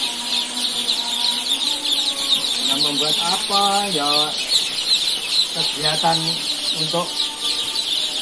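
Joper chickens cluck and chirp steadily inside a brooder, with a dense high peeping chorus throughout and someone talking over it.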